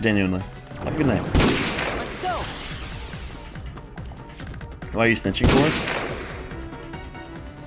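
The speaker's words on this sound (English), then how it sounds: "That's the sound of people getting shot." Two sharp bursts of gunfire in Kingdom Hearts 2, one early and one late, with a voice speaking briefly between them over a noisy background.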